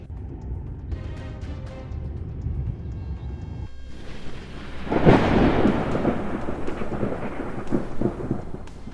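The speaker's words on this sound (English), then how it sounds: "A massive storm swept across the Midwest, bringing fierce winds and violent thunder." Thunderstorm over the Midwest with violent thunder and fierce winds: steady rain hiss first, then a loud, close thunderclap midway that rolls and rumbles on under continuing rain.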